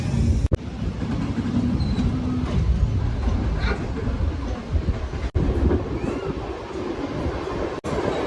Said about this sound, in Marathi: ट्रेन आता फायनली पोचलेली आहे जुचंद्र रोडला